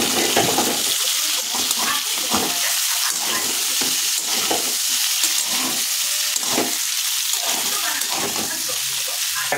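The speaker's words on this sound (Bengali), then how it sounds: "এবার বাকি সবজিগুলো দিয়ে দিচ্ছি।" Vegetables fry in a kadai (wok) with a loud, continuous sizzle, broken by regular scraping and tossing strokes as they are stirred.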